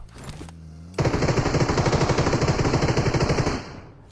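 An MG3 machine gun fires in an online shooter video game, one loud sustained burst of rapid evenly spaced shots lasting about two and a half seconds, preceded by brief game sounds.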